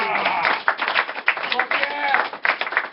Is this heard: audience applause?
yes